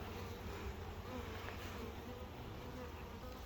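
Bees fly around the entrances of a hive holding a small colony from this year, making a steady, soft, continuous buzz with no break.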